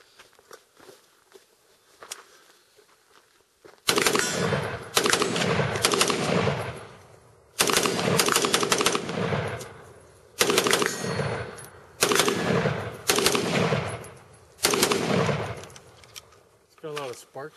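Noveske rifle firing Black Hills .223 55-grain rounds at night outdoors, loud sharp shots in spaced bursts of several rapid reports each, close by, with brief talk between strings.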